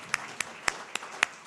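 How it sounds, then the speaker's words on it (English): Six evenly spaced, fairly faint hand claps ring out in a steady rhythm during a university address, over a low background murmur. "And yes, let me say a round of applause for that."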